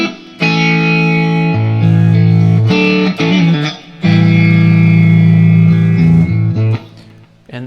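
An electric guitar plays a hammer-on lick through distortion, chorus and reverb effects, with bright sustained chords and quick note flurries in several loud phrases separated by brief gaps.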